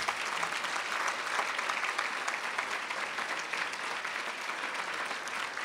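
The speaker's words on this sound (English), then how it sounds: "Give him a round of applause." Continuous audience applause at a gala, dense and even, sustained throughout at moderate distance.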